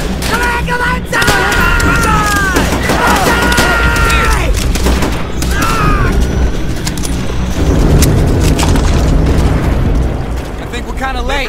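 Battle noise from the video game Call of Duty: World at War, with continuous loud rumbling artillery explosions and gunfire mixed with shouting voices and whistling tones throughout.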